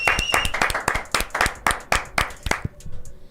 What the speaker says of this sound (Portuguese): Palmas também pra Vossa Santidade, o Papa.